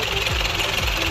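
A 2018 Massey Ferguson 375 tractor with a Stanadyne pump, its diesel engine running with a steady low throb and a couple of brief dips in pitch, close by.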